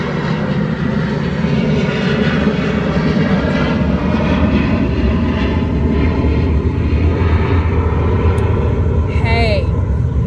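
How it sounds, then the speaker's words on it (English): A large airplane passes overhead, a loud continuous engine roar and rumble that stays strong the whole time, with a person talking over it. "There's a huge airplane flying over me."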